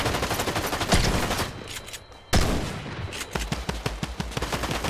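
Fortnite gunfire: rapid strings of sharp shots ring out in quick bursts, with a loud blast midway and a fast stuttering volley near the end, fairly close.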